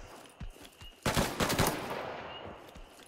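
Gunfire in a tactical extraction shooter game, a single distant shot followed by a close rapid burst of several cracks that trail off into a lingering echo.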